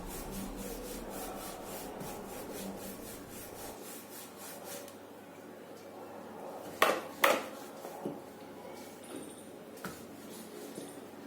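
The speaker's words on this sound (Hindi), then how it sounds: "पराठा बेल लेती हूँ।" A rolling pin works a potato paratha back and forth on a board, giving a steady repetitive rubbing rhythm that is soft and close, followed by a few sharper taps and knocks as the dough is handled.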